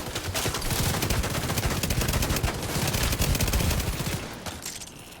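Sustained rapid automatic fire from a CTAR rifle in The Division 2, a dense loud unbroken burst of gunshots lasting several seconds before tapering slightly at the end, with no talk.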